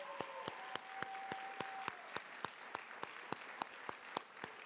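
Applause for finalists and judges at the Do Good Challenge finals, a broad wash of crowd clapping with a few sharp, evenly spaced loud claps standing out in a steady rhythm, moderately distant.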